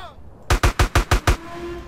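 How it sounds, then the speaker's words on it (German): A quick burst of six evenly spaced, loud gunshots from the video game GTA San Andreas, fired in rapid rhythm, followed by a faint ringing tail. "Wir schießen alle über den Haufen."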